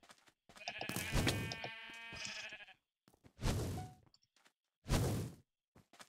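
Sheep in the Minecraft arcade game give several synthetic bleats, a long wavering one followed by two shorter, loud and close, with no talk over them.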